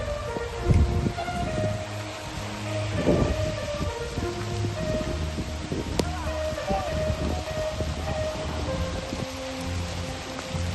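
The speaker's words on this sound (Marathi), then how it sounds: "जोरात पाऊस सुरू झालेला आहे।" Heavy unseasonal rain pours steadily in Lonar with low rumbles of thunder and strong wind, a dense, continuous wash of noise, with a faint murmur of voices in the background.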